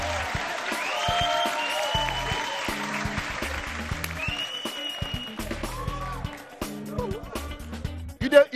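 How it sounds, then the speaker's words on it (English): Studio audience applause welcoming a musical artist onto a Nigerian talk show, sustained clapping with voices and shouts over it, fading toward the end as speech takes over. "Clap, clap, clap, clap."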